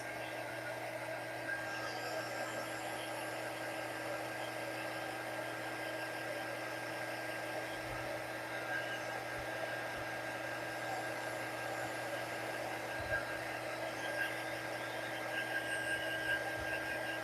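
Hair dryer blowing steadily and close for the whole stretch, drying painted dots on an apple garland; a constant airy whoosh with a motor hum, no talk over it.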